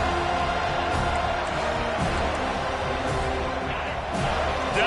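A football stadium crowd during a Washington at FSU college game roars steadily on third down, a loud, sustained wall of cheering that holds throughout.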